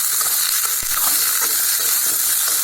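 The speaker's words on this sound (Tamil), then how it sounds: "இப்போ முள்ளங்கி போட்டாச்சுங்க. நல்லா போட்டு ஒரு வதக்கிடலாம்." Radish pieces sautéing in hot oil in a pan for Thanjavur-style sambar, a steady loud sizzle and crackle throughout, with a brief stirring knock partway through.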